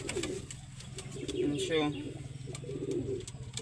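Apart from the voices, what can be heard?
pigeons cooing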